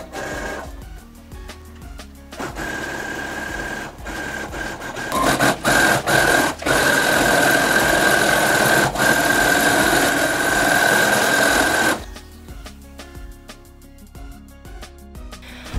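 A sewing machine stitches strips of neon pink swimsuit fabric, starting with short, rapid bursts of stitching, then running in one long, loud continuous buzz before stopping and ticking again in short spurts.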